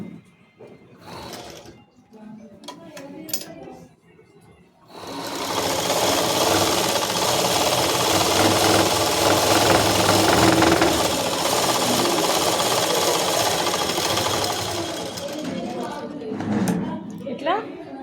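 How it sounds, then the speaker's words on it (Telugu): A sewing machine runs steadily for about ten seconds, stitching the lining at the neckline of a boat neck top, preceded by faint handling and fabric rustling and a voice speaking before the motor starts. "ఫోల్డ్ చేసి కుట్టు ఎండ్ చేసిన తర్వాత ఇక్కడ నుంచి స్టార్ట్ చేసి దీన్ని విడిగా కుట్టుకోవాలి."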